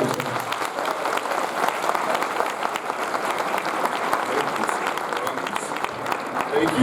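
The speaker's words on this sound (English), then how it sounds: "Give another big round of applause, ladies and gentlemen." Sustained audience applause following Congressman Richard McCormick's Mother's Day speech, dense steady clapping from a sizeable crowd throughout, with some voices mixed in.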